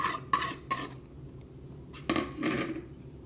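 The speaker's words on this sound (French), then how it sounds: "nous allons mélanger dans un saladier le sucre glace, la poudre d'amande, la farine" Dry ingredients of icing sugar, almond powder and flour stirred together in a mixing bowl for apricot and orange-blossom financiers, giving several short clinking, scraping bursts of a utensil against the bowl, fairly quiet.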